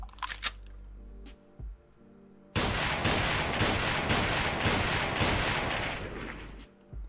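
A WA2000 rifle fires in Unturned, a few sharp clicks and handling noises first, then a long, loud stretch of rapid shots blending into a dense roar before cutting off.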